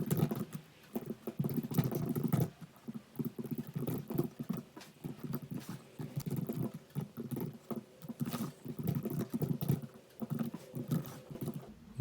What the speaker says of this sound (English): Let me start typing the code.